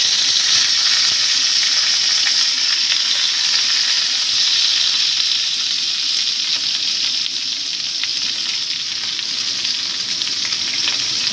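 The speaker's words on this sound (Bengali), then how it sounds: "লাউ পাতা ভালো করে মিশিয়ে নেব।" Bottle gourd leaves get stirred in hot oil for a kachki fish paturi, producing a loud, dense, unbroken sizzle that holds steady throughout with no pauses or voices.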